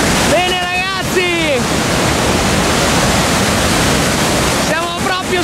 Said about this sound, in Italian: Siamo proprio sulla bocca della cascata! La potenza incredibile!